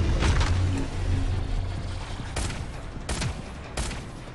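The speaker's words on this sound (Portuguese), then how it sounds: "a SMG tá até dando bastante tiro" SMG gunfire in the shooter game Shadowgun Legends: rapid bursts of automatic shots, several sharp volleys spaced out over a continuous rumbling game background.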